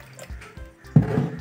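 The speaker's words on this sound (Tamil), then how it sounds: "இதுக்கு மேலே தண்ணி ஊற்றிக்கலாம்." Water poured onto pearl millet while preparing kambu koozh, a Tamil millet porridge, giving a close splashing pour that swells in the second half after faint handling sounds.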